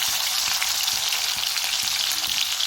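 Cumin seeds splutter in hot oil in a pan. The dense, steady crackling sizzle carries on throughout, fairly loud and close, with no talk.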